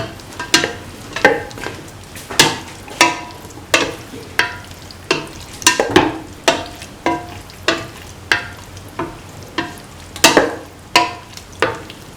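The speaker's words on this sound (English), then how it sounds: "Salt and mix the beef pieces with the onion, shallots and the green chilies." Beef pieces stirred with onion, shallots and green chilies in a sizzling pan, a spoon scraping in steady, regular strokes roughly every half second over a constant frying hiss.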